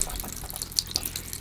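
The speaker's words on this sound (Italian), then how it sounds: "Allora, l'acqua calda, proviamola." Hot water running from a tap in a hotel room in Blackpool, a soft steady trickle and splash with a couple of brief louder splashes near the end, heard close and alone.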